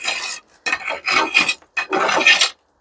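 Soil being loosened around a potted Melaleuca bracteata: four loud, close raspy scraping strokes with short pauses between them and no talking.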